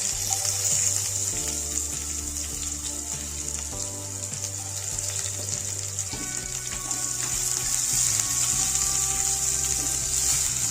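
Carom seeds, curry leaves and capsicum sizzle steadily in hot oil while tempering for chola bhona, a close, continuous frying crackle with brief clatter of stirring, no talk.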